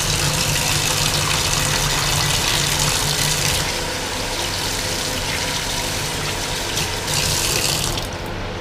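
Running water rinses soapy dish-soap residue off diesel engine parts from a Hatz Z790 military surplus engine, a steady loud faucet-like stream that drops slightly midway and then resumes, with no talking.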